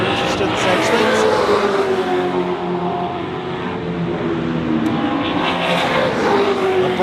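TransAm race cars, including a bright green Ford Mustang, roar around Queensland Raceway during qualifying, a loud, sustained engine drone with rising and falling pitch, while a commentator talks over it.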